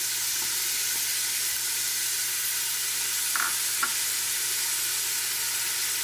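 One cup of onion fries in hot oil in a pot for a vegan chickpea and lentil stew, giving a steady, close, loud sizzling hiss with a couple of faint stirring clinks and no talk.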